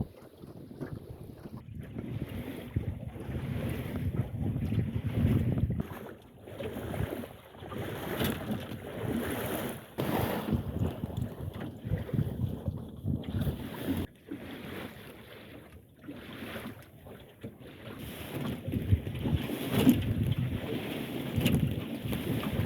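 A wooden sailing dinghy crossing the Minch works through a lumpy sea stirred by strong tide near the Sound of Gunner, with wind buffeting the microphone and water slapping and rushing against the hull, unbroken and without talk.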